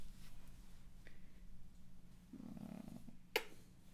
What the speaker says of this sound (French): Il ronronne ce connard.